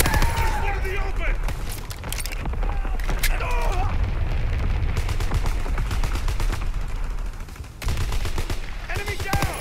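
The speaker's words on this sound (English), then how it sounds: "Incoming enemy artillery. Get to cover." In Call of Duty WWII, a hardcore team deathmatch on PC, enemy artillery explosions boom amid bursts of close gunfire and rapid firing, with in-game voices calling out over the battle.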